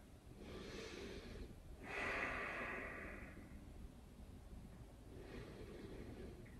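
Slow, breathy inhales and exhales from a person holding a yoga hip stretch, a soft breath swelling in the middle and fading, close but quiet with no talking.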